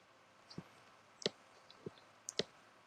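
Sharp computer mouse clicks while selecting points in Maya 2011, about five distinct quiet clicks at irregular intervals with a couple of faint higher ticks, alone against a low hiss.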